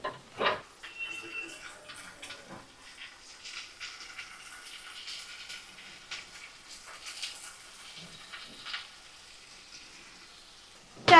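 A spiced masala of tomato and sour yogurt fries in a pan over a high flame, giving uneven spitting and crackling with short clattering bursts and quiet gaps between them.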